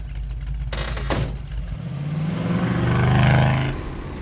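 A car engine idles, then revs up and surges as the vehicle pulls away, building to a loud peak before easing off, with no voices over it.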